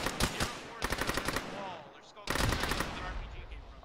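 Machine gun bursts rattle in the Arma combat game: rapid clusters of sharp shots, a short pause with a faint voice, then another long sustained burst.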